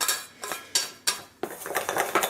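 A whisk beating mint donut batter in a bowl, close and loud in quick irregular strokes with sharp metallic scrapes against the bowl, no one talking.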